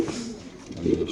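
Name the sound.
racing pigeons in cage 79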